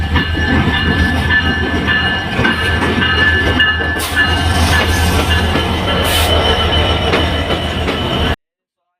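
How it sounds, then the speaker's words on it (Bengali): The Benapole Express, the direct Dhaka-to-Benapole service, pulls into a station with a loud, sustained mechanical rumble, metallic wheel squeal and clattering carriages, close by and continuous throughout. "এই বেনাপুল ট্রেনটি ফাইনালি চলে এসেছে"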